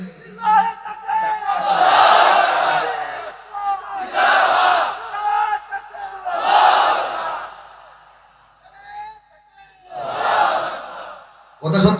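A large crowd repeatedly roars the takbir chant Allahu Akbar in unison at a Bangladeshi religious-political rally, with four or five swelling shouted waves separated by short pauses.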